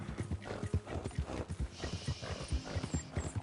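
A horse's hooves clip-clop at a steady trotting pace in the video game Red Dead Redemption 2 Online. The dense, rhythmic footfalls sound close and continuous, with faint snorting or whinnying now and then.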